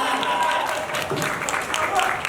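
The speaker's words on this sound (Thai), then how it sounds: "ขอเสียงปรบมือหน่อย" Audience applause at a Thai film premiere launch event, moderate steady clapping with crowd murmur and voices mixed throughout.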